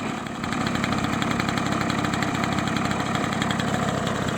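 A stock Peugeot 103 SPX phase 2 moped engine idles steadily after starting, a close, continuous buzzing putter with an even rapid rhythm and no talk over it.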